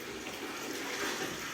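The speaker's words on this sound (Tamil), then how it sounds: "கறி நல்லா வந்துச்சு பார்த்தா இப்போ தண்ணி கலந்துக்கிறோம்" Water is poured into a pot of chicken biryani curry, a brief soft rushing stream of liquid, steady and fairly quiet, heard close with no talking.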